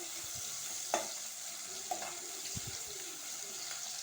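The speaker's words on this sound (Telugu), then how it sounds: "ఉల్లిపాయలు ఇలా వేసుకున్న తర్వాత మంచిగా కలుపుకోవాలి" Onions fry gently in a pan while being stirred, with a soft constant sizzle, a couple of sharp utensil clicks and low scraping knocks.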